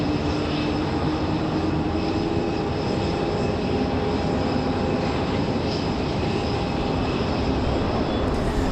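A Delta Airbus A319 jet idles at Raleigh Durham airport while lining up on runway 5 left, giving a steady, loud engine rumble with a constant whine that holds evenly throughout.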